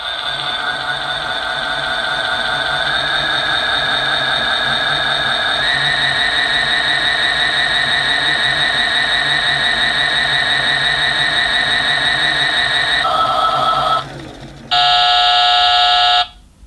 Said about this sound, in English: we need to spin dry the load by pressing this button here